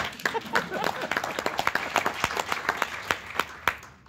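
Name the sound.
audience clapping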